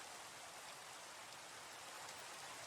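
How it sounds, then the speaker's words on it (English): Steady rain falls in Minecraft with the ATM7 modpack, a dense, even hiss of raindrops close up that runs unbroken with no talking. "it's annoying me that it's raining, as always."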